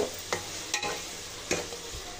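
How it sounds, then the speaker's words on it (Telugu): Tomatoes being stirred in a hot pan during chicken dum biryani preparation: a few distinct scraping strokes of a spoon against the pan over a steady low sizzle, close and moderately loud, with no voices. "ఇలా కలుపుకుంటూ కుక్ చేసుకోవాలండి, లేకుంటే అడుగంతా మాడిపోతుంది"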